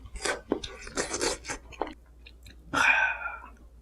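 Close, crisp chewing and biting of convenience-store Gohyang Mandu dumplings, first microwaved for a minute and eaten with cup ramen, in a string of soft mouth sounds ending in a louder crunchy burst.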